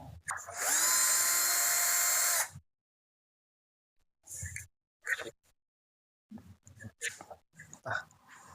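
A power drill whirs for about two seconds while unscrewing screws from a Perodua Axia car seat, followed by quiet, scattered clicks and handling knocks.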